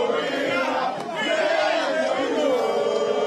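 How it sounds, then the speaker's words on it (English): A large, agitated crowd at a polling station during Ghana's 2024 general election, voices massed into a loud, continuous roar with shouts rising throughout. "The crowd is getting really uncontrollable. It's an uncontrollable crowd."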